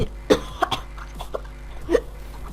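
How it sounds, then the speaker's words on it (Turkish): A person coughs several times in short, sharp bursts spread over a couple of seconds, close and fairly loud against a quiet background. "Lanet olsun öksürüyorum."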